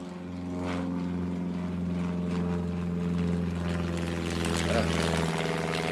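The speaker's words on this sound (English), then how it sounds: "When a plane flies over nowadays, it's more of an annoyance than anything else." A propeller plane drones steadily overhead, its low engine hum holding loud and constant throughout with a slight swell near the end, mixed with faint outdoor background noise.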